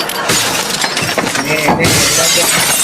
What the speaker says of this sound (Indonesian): Pecah lagi piring.